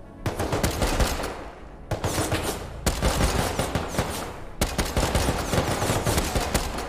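Dense gunfire in the survival game Rust during a raid, with rapid automatic bursts and shots overlapping for nearly seven seconds and only brief pauses between volleys, loud and close.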